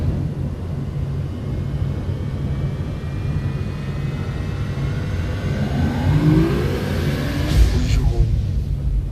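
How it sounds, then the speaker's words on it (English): A spaceship's warp drive spools up in the video game Starbound, a steady engine-like hum that rises in pitch and swells louder toward the end, ending in a bright whoosh. "we're gonna go ahead and initiate our warp"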